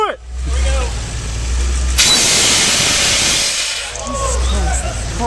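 A DeLorean's engine starts with a low rumble, then a loud broad hiss-like roar sweeps in and holds for about two seconds before fading back to a steady idle, with voices talking over the start and end.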